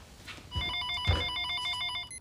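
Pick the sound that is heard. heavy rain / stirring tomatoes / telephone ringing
telephone ringing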